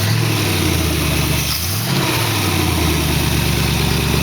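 The engine of a 1914 Dodge roadster fitted with Holley carburetors runs loudly up close, its steady drone briefly dipping and then swelling again as it accelerates.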